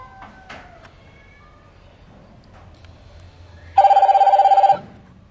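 A phone rings through a Bluetooth MP3 hands-free unit in a car, one short loud electronic trill burst after a few quiet clicks and faint background noise.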